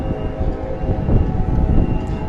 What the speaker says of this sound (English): I'm gonna wait for the next train. I'm not gonna take this one.